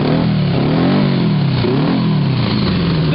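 A Honda GL1100 Goldwing engine fitted with a homemade Holley carburetor revs loud and close, its rising and falling engine note running steadily throughout with no talk.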